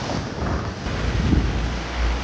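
Strong wind buffets the microphone aboard a Vendée Globe racing sailboat as ocean waves surge around the hull, a loud continuous roar with low rumbling swells and no voices.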